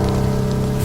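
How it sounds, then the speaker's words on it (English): Heavy rain pours down onto a surface in a dense, constant hiss, loud and close, with no breaks and no voices. "just pouring down rain"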